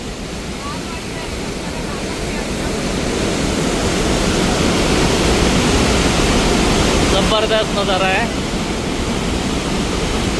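Water from a waterfall near Banff rushes out of a cave in a loud, continuous, close roar, with a brief spoken remark heard over the steady wash.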